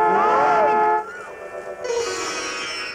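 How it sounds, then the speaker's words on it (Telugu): A loud sustained train horn blares with shifting tones for about a second, then fades into quieter rail noise and a higher whistle-like tone, with no speech over it. "ఇదిగో హార్న్ కొడుతుంటే వినిపించట్లా?"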